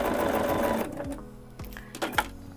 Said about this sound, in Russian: Одновременно у меня будет идти отделочная строчка, и деталь пришьется к наполнителю.